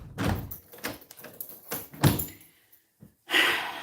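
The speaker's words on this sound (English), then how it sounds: "I need to go back in and close the door" A door is pushed and closed on a cold day at home, with rustling, a couple of solid thumps and a brief sliding rattle, followed by a short silence and then a final burst of noise.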